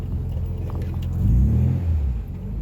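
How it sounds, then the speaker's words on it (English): A 1968 MGB's engine revs up in a low, swelling rumble during stick-shift practice, rising in the middle and then settling, heard close from inside the car with no talking. "You gave it gas before the clutch was out."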